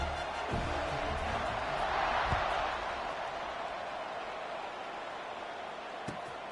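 A football stadium crowd roars steadily before kickoff, a dense, continuous wash of voices that swells slightly midway and then holds at a broad, even level.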